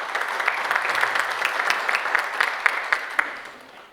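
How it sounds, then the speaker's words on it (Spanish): An audience at a municipal public-contracting event applauds warmly, a dense steady wash of many hands clapping together that trails off at the end. "recibamos con un fuerte aplauso"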